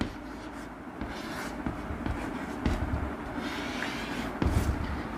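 Chalk or marker scratching across a board during a Sanskrit lesson, a run of short rubbing strokes with small taps at a moderate, even level. No voices.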